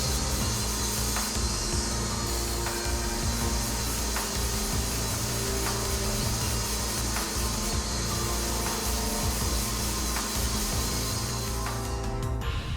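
A MiniPol rotary polisher works a 3D-printed resin part at high speed, giving a steady loud whir with constant rubbing and faint ticking throughout, close up and without pauses.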